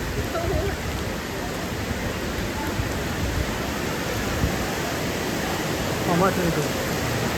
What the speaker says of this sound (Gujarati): કેટલો વરસાદ પડશે